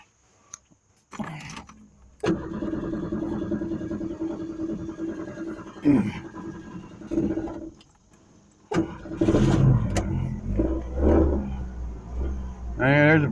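A classic Ford Mustang cranks, catches and settles into a steady idle, then revs in several loud surges near the end, with keys jangling and voices talking at times.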